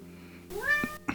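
A single close cat meow, rising then falling, followed by a short chirpy sound, over a faint steady background hum.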